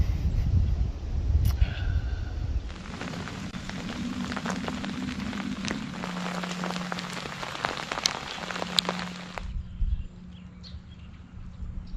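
Steady rain pattering on surfaces outdoors around a campsite, a dense continuous hiss with scattered louder drops, and a low engine-like hum running underneath.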